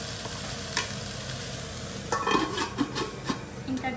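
A spoon stirring a bitter gourd and spice powder mixture in a pan, soft scraping and clinks that begin midway over a steady low sizzle, fairly quiet and close.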